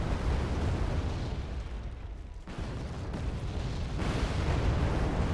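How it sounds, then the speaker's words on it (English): Artillery fire in the video game Wargame: Red Dragon makes dense, rumbling blasts and booms that roll on continuously, with a brief dip in the middle before the barrage swells again. "The artillery might be my undoing."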